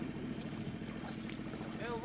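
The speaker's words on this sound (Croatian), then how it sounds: "Evo vozam se čamcem po luci." A small boat moves through a flooded harbour during an evacuation, giving a continuous wash of water and wind noise close to the microphone, with a faint engine-like hum underneath.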